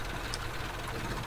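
A truck engine idles in the off-road driving game Spintires Mudrunner, a steady low rumble and faint knock that stays even and continuous with no talk over it.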